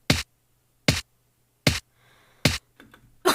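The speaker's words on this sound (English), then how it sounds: "I layered it with a snare," Electronic snare drum sample in a drum and bass beat, crisp hits repeating evenly about every 0.8 seconds, with a brief softer rattle and noise burst between the last two strikes.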